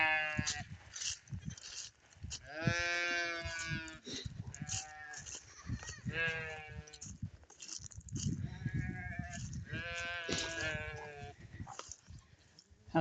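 Sheep and rams bleat loudly and repeatedly as they are turned loose, several animals calling one after another nearby with harsh, wavering cries and brief pauses between.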